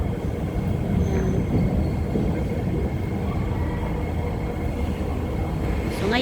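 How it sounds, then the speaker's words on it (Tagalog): An MRT train bound for Tampines pulling into a station in Singapore, a continuous low rumble and rolling roar that stays steady and fairly loud, with a faint high squeal toward the end. "ito na yung MRT ko ngayon. MRT train."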